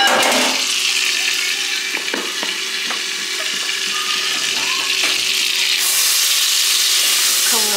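Butter sizzles and crackles in a pan as flour and tomato paste roast in it, steady frying hiss with scattered spoon scrapes and stirring clicks, close and fairly loud throughout.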